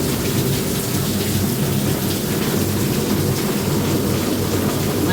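Heavy rain pours down during a thunderstorm in a Punjabi village, a dense continuous roar of falling water with low rumbling thunder underneath, steady and close throughout.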